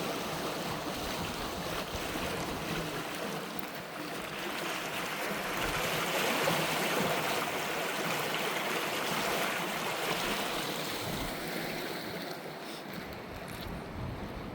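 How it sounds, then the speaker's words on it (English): Fast-flowing North Fork River water rushing past the edge of Dawt Mill, a steady, broad roar that continues unbroken throughout, with no voices. "It's a pretty quick moving water right there."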